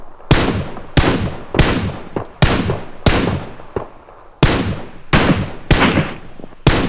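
Rapid gunshots in PUBG Mobile, eight sharp, loud cracks spaced roughly a second apart, each with a quickly fading tail, heard alone without voices.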